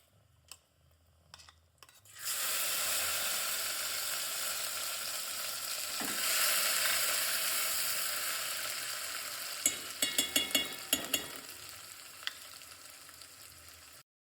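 Green chili, pepper and cumin paste dropped into hot oil with dried chilies, bursting into a loud steady sizzle that fades slowly, with a few sharp clicks of stirring near the end.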